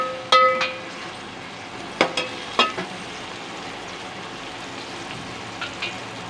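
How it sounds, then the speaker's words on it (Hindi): Onions fry in a pan, browning for an aloo and chicken biryani. A soft, steady sizzle runs under several sharp spoon knocks and clinks against the pot, close by, with no speech. "प्याज ब्राउन हो रहा है हमारा"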